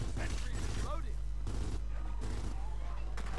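Gunfire in Gears of War 4 Horde mode on the Dinner map: several heavy, booming shots at irregular intervals over a constant low rumble, with a voice talking between them.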